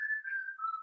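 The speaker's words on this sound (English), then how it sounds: "There is the whistling." A single short human whistle, clear and close, holding one steady tone that dips slightly toward the end, with no other sound around it.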